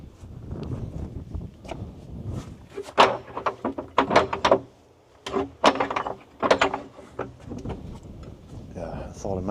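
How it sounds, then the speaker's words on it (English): The handle of a locked church door at St. Pabo's Church in Wales is tried, with metallic rattling, clunks and latch clicks in several bursts, close and fairly loud, with some talk between them. "I'll try the door just in case."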